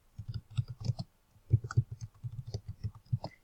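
Keys tapped on a computer keyboard while a company name is entered in a desktop publishing project, giving a quick run of close, quiet clicks with a brief pause halfway through.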